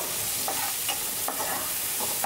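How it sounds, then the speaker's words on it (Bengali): Chopped onion fries in a little oil with a loud, continuous sizzle, broken by the scrape of a spatula stirring the pan every half second or so. "পেঁয়াজ কুচিগুলো হালকা ভেজে নিব"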